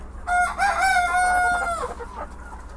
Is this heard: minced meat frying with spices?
no